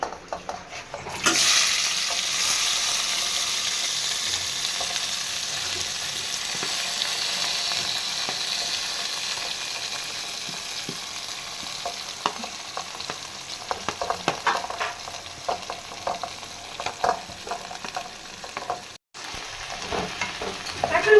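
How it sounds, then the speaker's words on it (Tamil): Onions hit hot oil with cumin in a pan and sizzle loudly and continuously up close, with stirring scrapes and clicks growing busier in the second half. "இப்போ வெங்காயம் சேர்த்துக்கலாம்"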